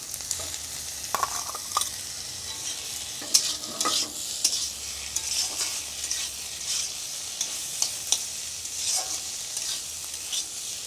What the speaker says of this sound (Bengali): আর এর সঙ্গে দিয়ে দেবো চিংড়ি মাছ হলুদ লবণ দিয়ে মেখে রেখেছি সেই চিংড়ি